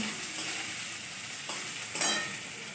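Ingredients, including kanda, sizzling and being stirred in a pan for a home-cooked dish, with a steady broadband fry and a louder scrape of stirring near the end, no talking.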